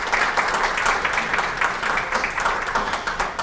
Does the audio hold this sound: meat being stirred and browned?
no